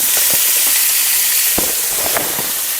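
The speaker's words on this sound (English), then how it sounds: "Cook the onion a bit." Onion frying in a pan for bacon Alfredo gnocchi, a loud continuous sizzle with scattered pops and crackles and a few faint clinks of stirring.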